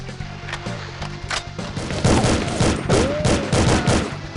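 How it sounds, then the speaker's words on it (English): Rapid machine gun bursts and gunfire from the 007: The World Is Not Enough shooter video game, loud and dense, building into heavy sustained volleys in the second half. "I'm not sure if the machine gun's worth it here."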